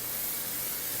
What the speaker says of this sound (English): I'm going to put in a little bit of non-stick cook spray. I use Pam.